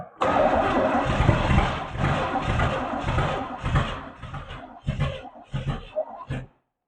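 An old Chevrolet Camaro barn-find engine starts up for the first time in 32 years, running loud and rough with a steady roar, then surging in uneven throttle blips that break up before it cuts off.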